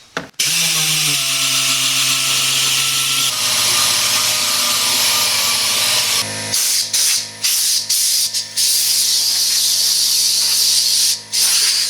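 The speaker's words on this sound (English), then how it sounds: "I'm out of the sanding discs that actually fit this sander, so I'm just going to offset it a little bit to one side and pretend that it's fine." An electric sander grinds across fiberglass on plastic with an offset, ill-fitting disc, a loud steady whirring hiss that runs continuously, then breaks into choppy stop-start bursts in the second half.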